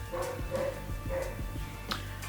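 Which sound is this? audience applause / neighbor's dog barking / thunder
neighbor's dog barking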